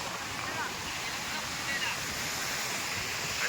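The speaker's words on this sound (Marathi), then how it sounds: "हा समुद्र हा किती खवळलेला आहे" Rough, churning sea beside a coastal temple, a continuous broadband wash of surf and wind close to the microphone, steady and fairly loud throughout.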